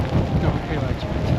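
Steady rain falls outdoors on a Scottish moorland trek across the Laich March, a continuous dense wash with low rumbling gusts, while a voice speaks briefly over it.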